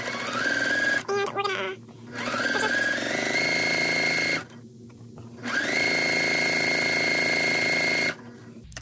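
Sewing machine chain piecing Dresden quilt blocks with a 1/4 inch seam, its motor whirring in steady bursts with short pauses between runs, close and loud.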